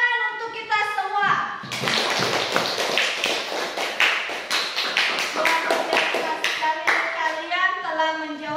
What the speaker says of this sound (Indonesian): Untuk itu tepuk tangan untuk kita semua.